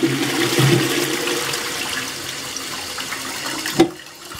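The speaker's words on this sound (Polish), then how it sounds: "woda się przelewa" Water runs steadily into a toilet cistern through a valve left open, overflowing with a constant hissing trickle, close by, ending in a brief clunk before quieting.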